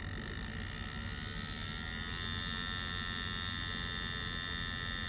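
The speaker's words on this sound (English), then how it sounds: "The Atom tattoo machine fluctuates easily from, you know, lower voltages to higher voltages with no problems" A Dragonhawk Atom M5 tattoo machine runs with a steady, close electric buzz and high whine that gets louder partway through as its voltage is raised, with no talking.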